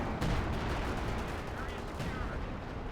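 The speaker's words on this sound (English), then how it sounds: "I think that's the major arty barrage again" A major artillery barrage lands in the real-time strategy game Company of Heroes 2 during a 1v1 match, with dense overlapping blasts and rumbling impacts forming a continuous loud roar.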